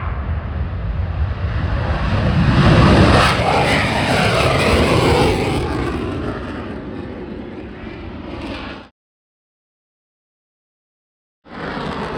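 Loud, roaring aircraft engine at full power, a sustained broadband roar swelling then easing, cutting off abruptly before returning briefly at the end.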